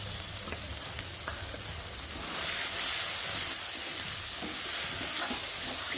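A spice paste with poppy seed paste and mustard paste fries in hot oil with a steady close sizzle while being stirred. The sizzle grows louder about a third of the way through.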